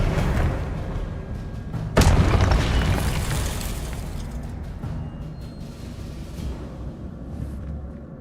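Spells are cast in Hogwarts Legacy, including fire and disarming charms, setting off a loud booming blast at about two seconds that rumbles and fades over a continuing low roar of game effects.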